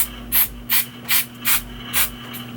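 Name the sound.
spraying hair product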